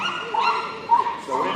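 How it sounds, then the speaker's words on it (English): A poodle at a dog agility competition in a large arena gives short yips and whimpering barks, loud and close, with a voice talking over them. "Let's take a see what Max, the poodle, can do"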